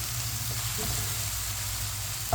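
Chopped tomatoes cooking in a pan for a savoury aloo baingan dish give off a steady, soft sizzle and low bubbling close by, with no one speaking.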